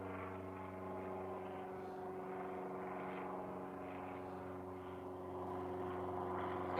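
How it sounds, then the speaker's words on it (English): A propeller airplane departing San Carlos airport drones steadily overhead, a continuous engine hum with strong harmonic tones that swells slightly toward the end, heard alone without talk. "I'm going to show you this plane as it flies on by."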